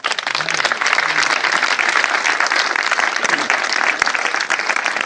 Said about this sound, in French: Oh, acclamez Jésus-Christ, il est merveilleux.